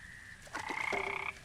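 Cartoonish frog croaks from the video game Memoranda, several overlapping tonal calls swelling together into a loud chorus that holds for under a second before stopping abruptly, with no talking.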